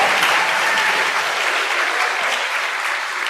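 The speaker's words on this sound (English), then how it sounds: "Big clap for all the vets" An audience at a keynote event applauds veterans in a dense, steady wash of clapping. It stays loud and sustained for the whole stretch, with no voices over it.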